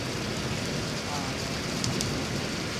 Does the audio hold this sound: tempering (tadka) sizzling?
no